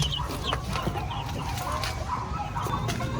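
Rhode Island Red hens and a rooster in a farm coop give soft, scattered clucks over a steady low background, fairly quiet and without talk.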